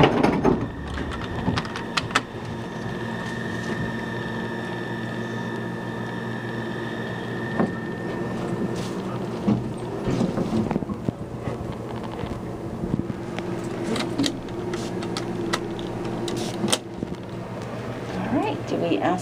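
A Dover Impulse hydraulic elevator at Graham Memorial Center, UNC, Chapel Hill, descends with a steady low hum and tonal whine, occasional clunks and rattles, and soft noise from the cab throughout.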